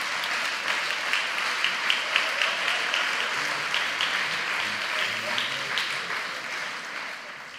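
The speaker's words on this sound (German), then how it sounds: "Teilen Sie sich Ihren Applaus." An audience claps at a university rectorate inauguration, a dense, sustained wave with some rhythmic unison beats early on, gradually thinning toward the end, with faint voices mixed under it.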